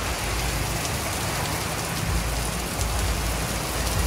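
Steady heavy rain from a rainstorm on Siquijor pours down close by as a dense, even hiss with low rumbling underneath, continuous and unbroken throughout.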